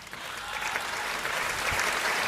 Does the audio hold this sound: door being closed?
no